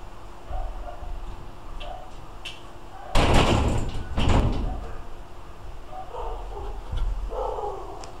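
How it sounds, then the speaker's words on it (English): A house door is shut with a loud thud in the middle, amid a few faint sounds of dogs barking nearby, with soft broadband room noise before and after. "I'm gonna shut this door because this dog is barking."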